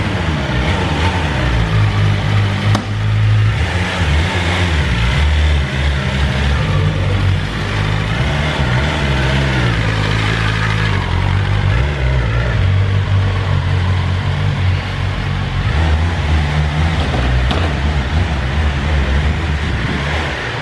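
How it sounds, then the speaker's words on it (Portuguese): Faired motorcycle engine running loud and steady as it warms up, a continuous close rumble with slight throb and no clear pauses. "Esquentou o motor, agora pega a moto quente agora."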